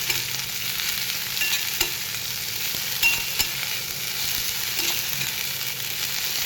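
Roasted shravan ghevda beans are stirred into fried onions in a hot pan, producing a dense, even sizzle with soft scraping strokes throughout and no voices.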